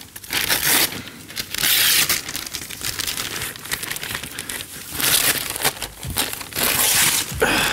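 Wrapping paper is torn and crumpled off a gift in loud, close bursts of crinkling and ripping that continue unevenly throughout.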